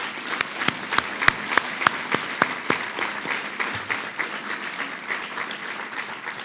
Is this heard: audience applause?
yes